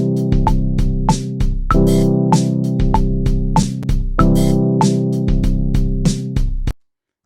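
Piano-like chords from a BandLab recording play in a steady progression, each struck cleanly and sustained, with a regular rhythm, close and loud, then stopping abruptly.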